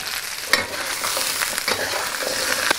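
Dried chili pepper crackles and sizzles in hot oil in a wok alongside celery, a loud, close frying hiss broken by stirring scrapes.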